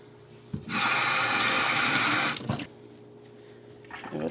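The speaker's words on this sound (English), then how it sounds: "throw the water in the pot here right now" A kitchen tap runs into a cooking pot in one steady gush of about two seconds and then shuts off, leaving quiet room tone and small handling noises.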